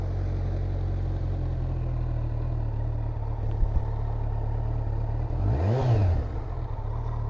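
Stock-exhaust Kawasaki Z900 motorcycle idling steadily up close, then a single sharp throttle blip that rises and falls quickly near the end.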